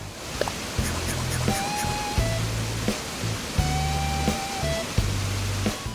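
A waterfall in an Animal Crossing island garden gives a steady, even rush of falling water, with soft, recurring game tones chiming on top.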